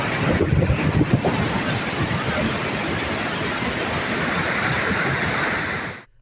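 Water rushes through the open sluice gates of the Kotmale reservoir in Sri Lanka during continuous rainfall, a loud, steady broadband roar that fills the whole stretch before cutting off abruptly at the end.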